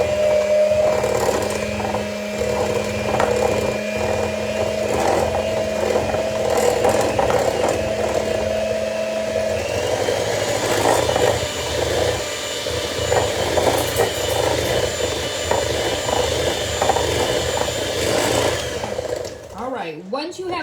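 An electric mixer blends egg and maple syrup into sugar for maple cookies. It gives a loud, steady motor whir with grinding, rattling texture close by, and the tone shifts partway through. It winds down at the end.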